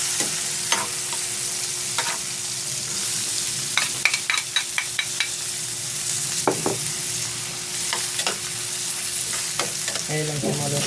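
Onions sautéing in a frying pan for a tomato and soy sauce dish with dried anchovies, a steady sizzle broken by repeated clinks and scrapes of a spatula stirring against the pan.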